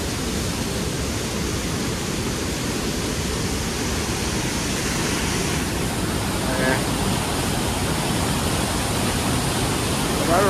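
Thundering water at Niagara Falls' Cave of the Winds, a dense, continuous roar of crashing spray that stays loud and unbroken throughout, close and overwhelming, with no clear voices over it.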